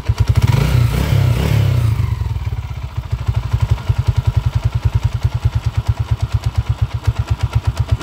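A Lipan 150 motorcycle converted to a five-speed transmission revs briefly, then drops into a loud, close, rapid chugging idle with an even, pulsing rhythm that continues to the end.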